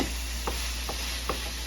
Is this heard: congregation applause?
no